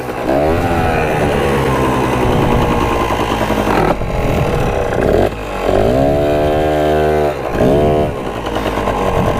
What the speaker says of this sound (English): I just turned the gas off and then opened the throttle and just pulled it a million times and she finally went